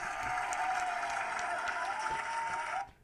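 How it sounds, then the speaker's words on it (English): A steady round of applause from a small group, even clapping throughout at moderate level, cutting off abruptly near the end. "I'm going to give them a round of applause."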